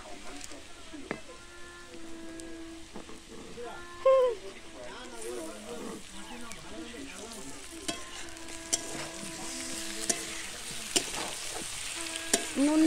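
Tomato frying in a pan for an egg curry at a children's picnic, a continuous crackling sizzle with occasional stirring knocks, heard under people talking nearby.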